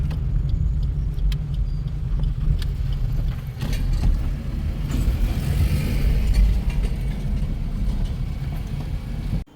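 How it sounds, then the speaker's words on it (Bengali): Steady car engine and road rumble while driving on a monsoon road trip from Siliguri toward Sevoke, continuous and moderately loud from inside the vehicle, with no talking. "গাড়ি ফুল ট্যাঙ্ক করে আমরা এখন যাচ্ছি সেবকের দিকে।"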